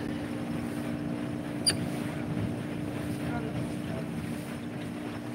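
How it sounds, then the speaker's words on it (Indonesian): Speedboat crossing high waves on Tasik Biru at Bau, Sarawak, with a steady engine drone and wind rumble throughout and one sharp knock partway through. "Oh, dia speed boat ya."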